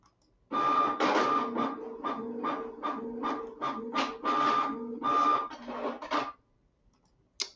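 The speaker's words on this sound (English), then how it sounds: "All right, printing those pages now." A printer feeds and prints pages, giving a close, busy run of rhythmic mechanical whirring and clicking bursts for several seconds before stopping, followed by a brief click.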